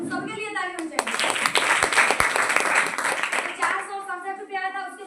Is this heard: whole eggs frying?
no